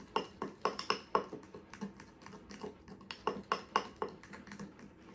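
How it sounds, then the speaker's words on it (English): Pancake batter is whisked in a bowl, giving quick irregular clinking taps of the whisk against the bowl in short bursts, fairly quiet and close, with no talking. "you're just going to mix this all together real good. Whisk it together is what it actually says."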